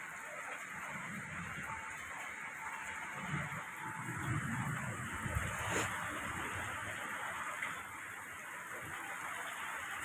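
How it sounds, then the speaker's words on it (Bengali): A steady, full rush of rain and gusting wind fills the air continuously, fairly loud and close, with no voices. "বৃষ্টির সঙ্গে সঙ্গে হাওয়াও চলছে"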